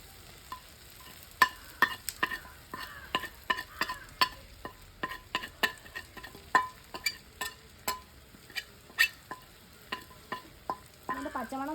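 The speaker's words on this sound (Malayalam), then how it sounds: "മാറുന്ന വരെ ഒന്ന് വഴറ്റും കേട്ടോ." Chili, coriander and garam masala powders being sautéed for a Kerala chicken curry: a soft frying sizzle under a steady run of sharp spoon scrapes and taps against the pan, roughly two per second, close and without talk.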